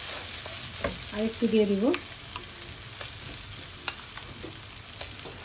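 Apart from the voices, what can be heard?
coconut paste frying and being stirred in a pan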